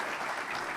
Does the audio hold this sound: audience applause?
yes